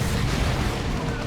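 The Swarm Lord dies in a large explosion in a Dawn of War 2 three-versus-three match, a dense, loud, roaring blast that fills the whole moment with sustained rumbling noise.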